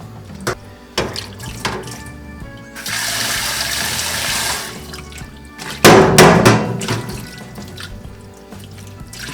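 Oysters are washed by hand in a bowl of water under a running tap, loud close splashing and sloshing in bursts with steady faucet flow between, and no talking.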